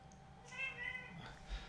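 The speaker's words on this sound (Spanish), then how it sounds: "esa es mi gata" A pet cat meows a couple of times in a quiet indoor room, the calls short and fairly faint, with a voice talking softly nearby.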